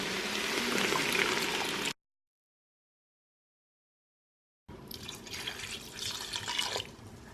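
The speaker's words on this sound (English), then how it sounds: "Now we pour in the clam juice." Clam juice pours into an Instant Pot with a watery splashing gurgle, in two separate bursts broken by a dead-silent gap, close and fairly soft.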